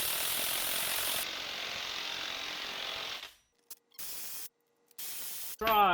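A ratchet tightens strut nuts on a Honda during a strut installation, heard as a loud, steady close-up spinning buzz for about three seconds, then a few short separate bursts with gaps of silence between them.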